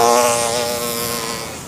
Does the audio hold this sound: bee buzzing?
yes